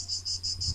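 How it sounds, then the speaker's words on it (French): Cicadas buzzing loudly in pulsing bursts, four steady shrill pulses in quick rhythm over a faint low hum, with no voices. "on s'entend plus avec toutes ces cigales"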